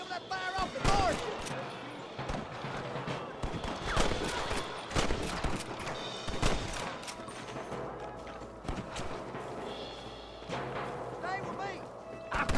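Gunfire in a Red Dead Redemption shootout with a marshal: a dense, continuous spray of sharp shots and thuds from several guns, with voices talking over the battle throughout.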